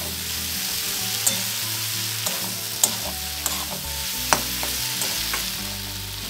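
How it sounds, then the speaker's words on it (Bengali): Mixed vegetables stir-fried in spice paste over a low flame for a veg dal, with a steady soft sizzle and occasional spoon scrapes and clinks against the pan, no voices. "এইবার সবজিগুলো দিয়ে ব্যাস 2 থেকে 3 মিনিট মতন হালকা নাড়াচাড়া করে নিতে হবে"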